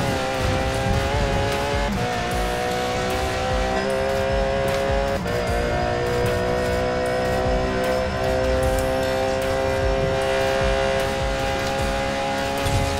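A Ford car in the racing game Forza Horizon 4 drives at high speed, with its engine droning loud and continuous, gear-shift dips and faint tire squeal throughout, and no voices.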